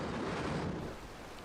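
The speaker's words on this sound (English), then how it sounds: "torrential rain now turned the battlefield into a quagmire" Torrential rain pours over the Okinawa battlefield as a dense, steady hiss with a low rumble underneath, fairly quiet and easing slightly toward the end.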